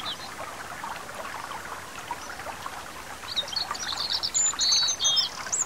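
Birdsong in a country meadow beside a stream, with trickling water running steadily throughout and a few clear chirps and whistles rising near the end, moderately close and gentle.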